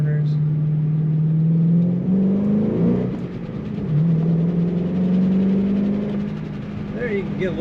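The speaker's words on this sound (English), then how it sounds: "Get a little more exhaust note." A 2008 Ford Mustang Bullitt being driven with a window down gives off a loud, steady exhaust drone that rises with acceleration, dips briefly, then climbs again as the engine note swells and eases.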